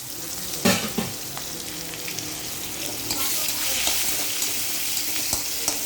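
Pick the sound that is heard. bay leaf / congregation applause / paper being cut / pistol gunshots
bay leaf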